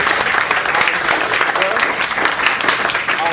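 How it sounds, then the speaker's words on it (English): An audience applauds Dr. Lawrence White after his talk on monetary matters, producing dense, steady clapping from many hands that continues at full strength throughout. "let's give him a round of applause"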